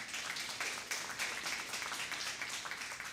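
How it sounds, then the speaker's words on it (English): An audience at a Seattle Colleges government-to-government gathering claps in a steady, even round of applause, heard from a distance and fairly faint, with no talking over it. "Let's give them both a round of applause, please, folks."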